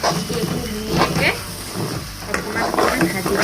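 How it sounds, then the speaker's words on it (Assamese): Whole spices frying in a pan for a duck curry, a steady close sizzle with a few scraping stirs, continuous and fairly loud throughout. "এইফালে মোৰ মছলাখিনি ভজা হৈ গৈছে"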